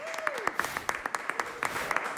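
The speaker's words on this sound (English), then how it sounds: "applause for Jill." Studio applause for a guest on a radio show, fairly distant clapping with a few sharp individual claps standing out, and a brief sliding tone at the start.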